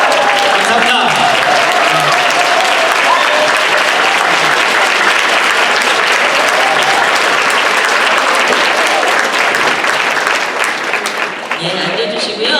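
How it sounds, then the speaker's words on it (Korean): A lecture audience gives a standing ovation after a professor's talk, loud sustained clapping filling the hall almost without pause before thinning out near the end. "이럴 때는 보통 기립박수를 치십니다."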